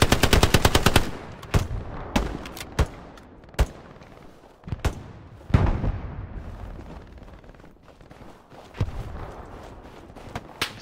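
Rapid machine-gun bursts and single gunshots crackle through a World War II video game firefight, with a dense opening volley followed by scattered loud shots and booming impacts spaced irregularly over the rest.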